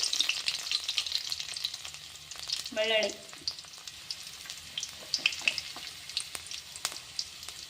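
Crushed garlic and mustard seeds crackle in hot oil with a steady high sizzle and scattered pops, a brief louder rustle of stirring near the middle, close and alone without talk.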